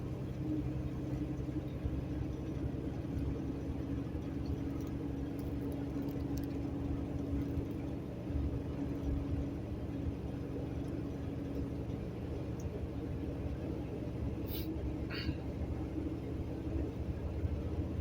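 A truck cruising at steady highway speed, around 67 mph on cruise control, gives a continuous low engine and road rumble that stays even throughout, with no talking.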